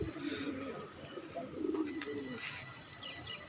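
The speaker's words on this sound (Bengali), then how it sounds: "আমার এখানেও অনেকগুলো কবুতর ছিল আমি কবুতরগুলো অনেক কমাই দিছি" Pigeons coo in a low, soft, repeated murmur at a backyard loft, the calls swelling around the middle, with faint chirps higher up and steady ambient noise throughout.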